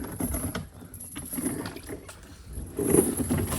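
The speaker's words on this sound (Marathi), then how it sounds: "चला आता आपण होडी लावून घेऊ." A wooden rowboat moves through shallow coastal water while mudskippers are caught, giving soft irregular splashes and knocks close by with no talk.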